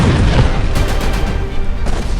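Heavy booms and blasts roll through Damascus during an attack, a dense, rumbling barrage of explosions with sharp bursts over a loud continuous din.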